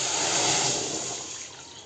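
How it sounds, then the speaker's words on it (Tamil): Water poured into a cooking pan holding a few spoons of roasting moong dal for drumstick-leaf stir-fry, a steady hissing trickle that sounds close and fades slightly over about two seconds. "கொஞ்சம் தண்ணி"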